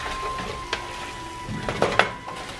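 A spoon scrapes and knocks around a cooking pot as mutton filling for Sri Lankan mutton rolls is stirred, with a light sizzle underneath and a few clearer clanks toward the end.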